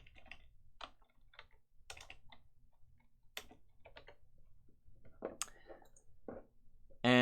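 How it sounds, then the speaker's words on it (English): Someone typing on a computer keyboard while writing a Google Docs document, with scattered soft key clicks in uneven bursts, fairly quiet and close, ending with a brief louder tone. "Just type out whatever you need to type out."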